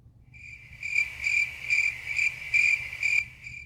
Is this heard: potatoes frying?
no